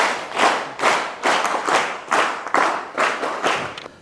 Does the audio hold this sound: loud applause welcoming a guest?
yes